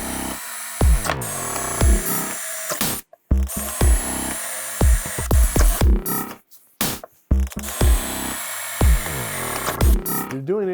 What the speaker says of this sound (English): Try to drill it out as straight as possible.